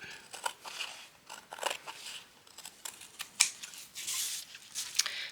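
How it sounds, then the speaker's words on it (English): Scissors snipping through fabric for a mixed-media word embellishment, a series of small crisp cuts in uneven bursts, close up and quiet, with no one talking. "Now I am going to cut this off."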